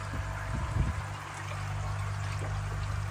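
Water flows through a freshly cleaned mesh filter, a continuous close pouring and trickling stream with faint gurgles, steady and alone.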